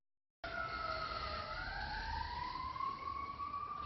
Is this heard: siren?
yes